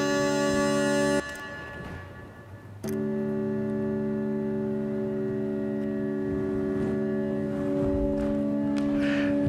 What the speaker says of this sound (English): what you're hearing now is the chord without any processing